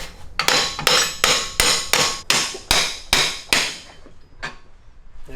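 Sharp metallic hammer blows ring out one after another, about nine strikes in a fairly steady rhythm, loud and close, with no talking.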